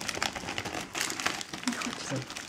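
A small plastic packet is crinkled and torn open indoors, a close, busy run of crackling rustles with a person speaking over part of it.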